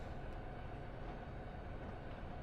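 In a train simulator game, a train's air brakes release as a steady, loud broadband hiss over low rumbling, continuous for the whole stretch.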